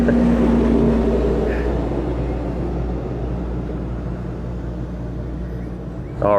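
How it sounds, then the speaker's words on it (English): A big truck rumbles past close by with a loud, steady low roar of engine and road noise that slowly fades, with a brief voice at the end. "I've got a big truck here coming past me, so I'll wait for it to pass before we go"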